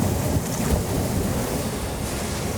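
Ocean waves break and surge in freezing cold water, a dense rushing wash mixed with wind noise, steady and close, with no voices.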